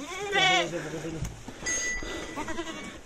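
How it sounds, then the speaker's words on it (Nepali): Goats bleat loudly and close by, one strong call early on, as the herd huddles together against the cold during a PPR vaccination outing; voices murmur in the background. "यता पनि रहेछ बाख्रा"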